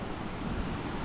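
Water rushing down a long waterfall used for abseiling in Eastern Uganda, a steady broadband roar filling the whole moment without pause, close and fairly loud with no voices.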